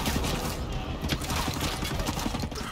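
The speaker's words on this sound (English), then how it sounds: "Who's shooting at me from where?" Gunfire in the video game Ghost Recon Breakpoint comes as a dense, continuous barrage of rapid shots and crackling reports that stay steady and loud the whole way through.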